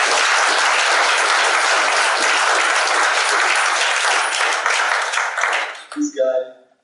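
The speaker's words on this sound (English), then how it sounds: "let's also give a round of applause to the director" Audience applause for a director at a talk or event in Nigeria, a loud sustained burst of clapping that fades out near the end, with a few voices audible as it dies down.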